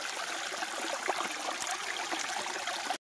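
Water from a natural hot spring on a mountain flows in a continuous soft rushing trickle, steady and moderately close, with no voices, until it cuts off abruptly at the end.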